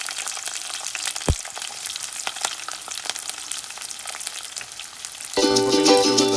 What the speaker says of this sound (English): slowly we can start adding whatever we have chopped, like now the onions along with it